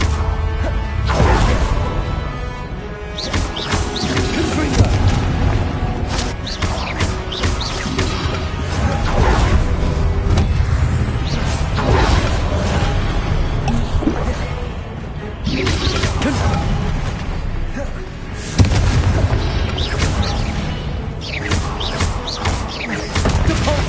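Spells being cast and going off in the video game Hogwarts Legacy, with a constant, dense barrage of magic blasts, crashes, whooshes and impacts layered over loud game music, unbroken from start to end.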